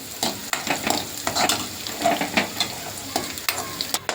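A pan of crushed garlic and cumin tempering for a green gram curry, frying with a steady sizzle while a spoon scrapes and knocks against it in uneven stirring strokes.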